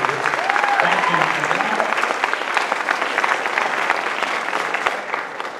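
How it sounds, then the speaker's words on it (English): Audience at the Miss Harvest Homecoming 2019 pageant applauding the Miss candidates, a dense, steady burst of clapping from a large crowd, loud and sustained with faint crowd noise underneath. "Let's give a round of applause for all of our beautiful Miss candidates."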